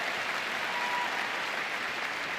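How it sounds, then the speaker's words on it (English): Steady applause from a crowd at the Game Awards 2024, a dense wash of clapping that holds at an even level throughout with no voices standing out. "please, a round of applause for our amazing devs"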